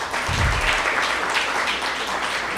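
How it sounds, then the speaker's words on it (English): A press conference audience breaks into applause, a dense, even wash of hand clapping sustained for the full couple of seconds with no voices over it. "So if we could just give them a hand clap."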